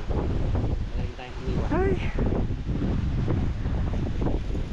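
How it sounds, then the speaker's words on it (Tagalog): Wind rushes across a microphone outdoors on a farm, a steady buffeting roar under a voice as he talks. "sarap ng hangin."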